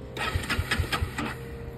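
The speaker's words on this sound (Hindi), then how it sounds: "एक बार मैं चालू करके दिखा देता हूँ बाइक स्टार्ट हो रही है कि नहीं हो रही" A Bajaj Dominar 400 motorcycle running low on petrol is cranked on the starter, giving a rapid, mechanical whirring chug with pulsing beats that never catches into a steady idle, heard up close and alone.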